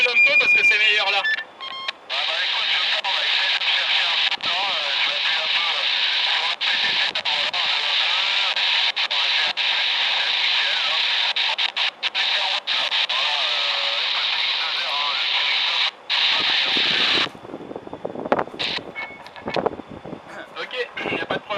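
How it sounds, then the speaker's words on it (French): Radio transmission received on a Twin Talker FRS walkie-talkie, a steady hissy, band-limited voice signal running for about sixteen seconds before cutting to quieter, broken background with brief noises. "je te reçois avec le Twin Talker et pas du tout avec l'UV5R"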